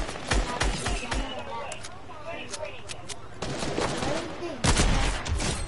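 Video game gunfire in rapid bursts of sharp shots, some close and loud, with a heavy volley near the end, while a voice chatters faintly underneath.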